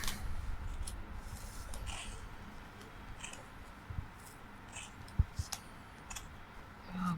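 Scissors snipping yarn during a knitting session, giving a few sharp, quiet clicks and cuts spaced apart against a hushed room, with no talking.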